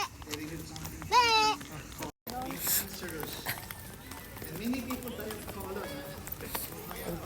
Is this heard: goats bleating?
yes